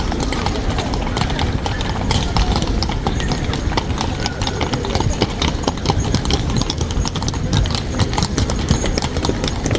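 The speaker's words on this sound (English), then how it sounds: "They have the best decorated horses." Constant clip-clop of decorated horses' hooves on pavement in Krakow's main square, Poland, close and lively, mixed with crowd chatter and street noise.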